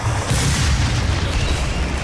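Explosion in the video game DOOM, a loud sustained rumbling blast with heavy low end that fills the whole stretch and slowly settles.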